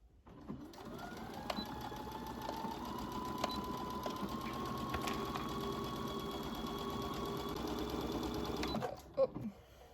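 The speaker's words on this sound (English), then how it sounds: "go all the way around, 3/8 of an inch, back stitching at the beginning and the end" A sewing machine stitches a 3/8-inch fabric seam for a baby clutch, back stitching at both ends, running as a loud, continuous motor whir with rhythmic needle clatter that stops abruptly near the end.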